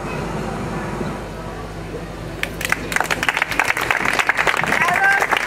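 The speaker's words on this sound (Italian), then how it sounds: "Un grandissimo applauso per Piergiorgio Bellocchio" An audience applauds at the 2016 Raf Vallone award ceremony in Italy. After a quieter stretch of room murmur, dense clapping breaks out and swells into sustained, fairly loud applause from a crowd.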